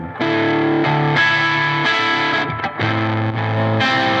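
Electric guitar played through a high-gain fuzz pedal with the volume knob rolled up, giving loud, thick, saturated sustained chords that shift between notes, close and continuous.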